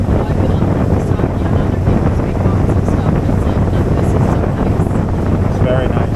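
A Tracker Grizzly 1754 SC boat runs on its 75 hp Mercury four-stroke outboard during break-in, a steady, loud engine drone mixed with wind buffeting the microphone throughout.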